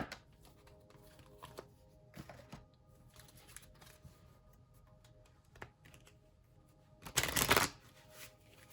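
Playing cards riffle-shuffled, with a few quiet taps and shuffles, then one loud, quick burst of cards being riffled together near the end.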